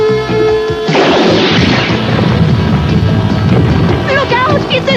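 A cartoon sand torpedo launches with a sudden loud boom and a rushing, crashing blast that roars on for several seconds, with voices and music over it.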